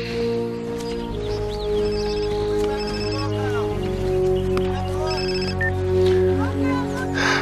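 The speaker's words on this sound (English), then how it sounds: "Your phone." A telephone rings with repeated bell-like trills, loud and close, against a busy background of music and voices in a crime drama scene.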